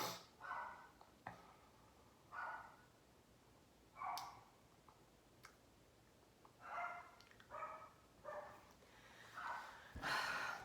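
Several dogs out back bark in short, muffled bursts from a distance, faint and scattered across the stretch with brief snorting sounds between.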